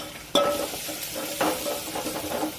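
Red chilli powder and ambari masala sauté in oil in a pan for a masoor dal, giving a steady sizzle with sharp scraping stirs and clinks of the spoon, close up and with no talking.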